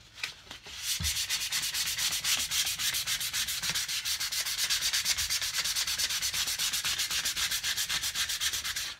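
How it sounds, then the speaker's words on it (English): A cigar box guitar neck is sanded with 220 grit sandpaper in steady rapid back-and-forth strokes. The rhythmic gritty rubbing is close and continuous for several seconds after a few brief knocks at the start, with no speech. "And this is a 220 grit sandpaper."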